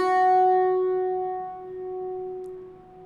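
Plucked Irish bouzouki notes ring clearly and sustain, a short melodic phrase played solo on its own, without any voice over it.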